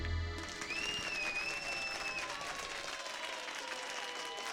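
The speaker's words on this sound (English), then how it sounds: "they're only clapping for Mina, but we'll take that applause" A crowd in Suikoden claps steadily and densely for the dancer Mina, the applause sustained throughout with a thin whistling tone gliding above it early on.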